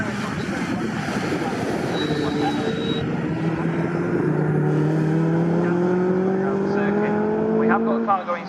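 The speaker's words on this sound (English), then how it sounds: "we have got a car going slowly coming onto the straight" A race car at Snetterton circuit during a classic saloon race, its engine droning loudly and rising and falling in pitch as it passes, heard under continuous commentary.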